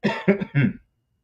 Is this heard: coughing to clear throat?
yes